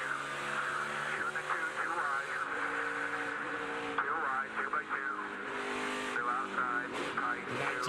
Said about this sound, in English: You hear the throttle control.